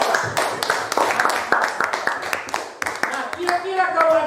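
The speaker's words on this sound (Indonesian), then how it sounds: "Tepuk tangan, luar biasa." Pupils in a fourth-grade classroom clap their hands together, a run of sharp overlapping claps in a brisk rhythm, close and loud, with voices mixed in near the end.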